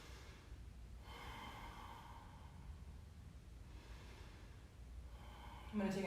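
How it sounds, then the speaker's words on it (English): Deep, slow breathing during a vinyasa yoga flow: long, airy inhales and exhales in two drawn-out waves, close and soft, with a brief sharper sound at the very end and no talking. "I'm gonna take another deep breath."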